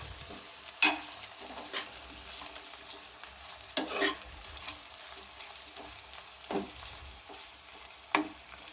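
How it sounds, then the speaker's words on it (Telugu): Pre-boiled prawns stir-fried with golden onions in a pan, a steady soft sizzle broken by several sharp scraping stirs of a spoon at irregular intervals, close and alone with no voices. "ముందే ఉడకబెట్టుకున్న రొయ్యలు వేసేసుకుందాం."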